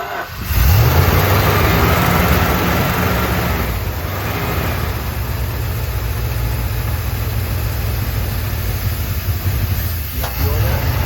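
A 1972 Dodge W200 Power Wagon engine cranks and catches after years unused, then runs loud and steady at a high, near wide-open rev, close by, with a faint high whine above it.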